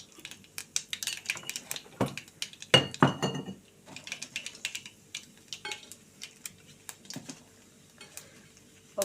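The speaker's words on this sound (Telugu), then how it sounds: "ఆవాలు చిటిపట అంటున్నాయి." Mustard seeds crackle and splutter in hot oil while tempering for a Telugu cluster bean stir-fry, giving sharp, scattered pops and clicks with a brief dense burst of crackling, close and fairly quiet, with no voices.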